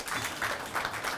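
An audience at a national integrity awards ceremony applauds with dense, continuous clapping from many hands, steady and fairly loud throughout the short burst.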